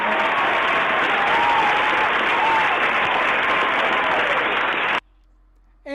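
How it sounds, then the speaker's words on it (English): Dense, steady audience applause fills about five seconds, loud and even, then cuts off abruptly and a voice begins. "we gotta give you some applause for that one"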